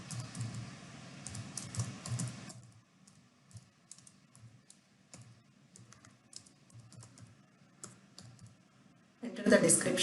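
Computer keyboard typing with light, irregular key clicks running quietly for several seconds, with a voice talking at the start and a louder burst of keystrokes at the end.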